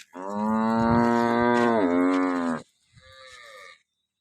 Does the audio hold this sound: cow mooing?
yes